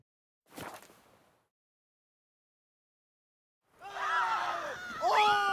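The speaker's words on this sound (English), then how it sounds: "What the fuck are you guys screaming about?" In The Witcher 3 video game, people scream in a short, sharp burst, followed by silence and then a louder run of several overlapping screams and cries.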